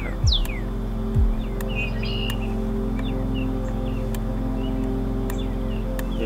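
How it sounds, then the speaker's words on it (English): Birds chirp outdoors in short, scattered calls over a steady low engine hum, with a couple of brief sweeping noises near the start. "Listen to the birds chirping."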